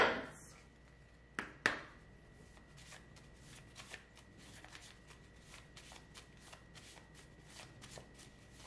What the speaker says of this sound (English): I want to pull some more of these cards.